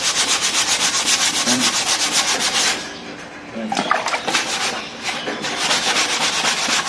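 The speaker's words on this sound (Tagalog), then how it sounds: "So, habang nililiha mo to" Steady, raspy scraping of sandpaper rubbed back and forth over a motorcycle fairing, close and continuous, with a brief pause midway before the rubbing resumes.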